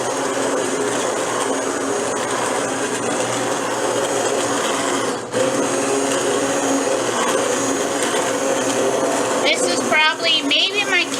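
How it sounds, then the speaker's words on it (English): A loud, steady motor whir of an immersion blender pureeing squash soup, running continuously with a brief dip midway, then a voice starts speaking at the end. "So I'm going to use my immersion blender, and I'm going to puree"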